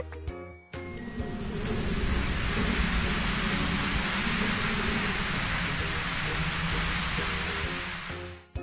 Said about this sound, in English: It began to rain and the wind blew.